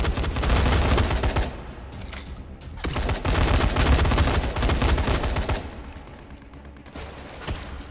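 Dense bursts of automatic gunfire in the zombie game Dying Light, loud and rapid, coming in two long volleys separated by a short pause and a final shorter burst, with no talk over them.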